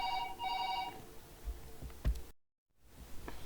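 A Samsung Galaxy A14 phone rings indoors with two short bursts of a bright, repeating electronic ringtone at moderate volume, followed by a few thumps and handling noises, then a brief silence.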